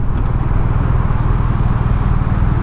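A 2021 BMW R1250RT motorcycle cruising at speed, its engine a loud, steady low drone mixed with rushing wind noise, continuous and close with no pauses.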